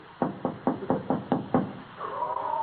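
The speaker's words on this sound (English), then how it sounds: "Shall we knock? They do." Knuckles rap on a wooden door in an old radio comedy: seven evenly spaced knocks, close and firm, then a voice begins to speak.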